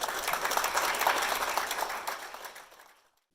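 Audience applause for graduates at a December 2021 commencement ceremony, a steady broadband patter that holds for about two and a half seconds before tapering off to silence.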